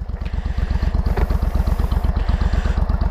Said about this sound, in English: Cobra twin drag pipes, which sound beautiful in person